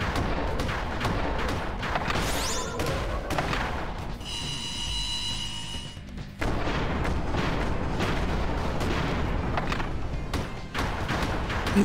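Shotgun blasts from the side-scrolling mech shooter game MECHBLAZE: dense, loud, rapid booming shots with heavy thuds filling most of the stretch, and a brief lull in the middle.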